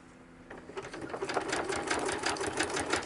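A sewing machine runs continuously while stitching paper ephemera holders, a dense close whirring chatter that builds slightly after a soft start, no talk.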